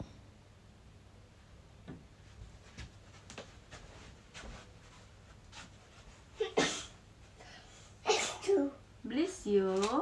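A sneeze in a home setting with a child and parent, a sharp burst near the six-and-a-half-second mark, followed by close voices talking and babbling over quiet background clatter.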